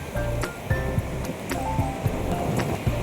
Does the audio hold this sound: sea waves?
yes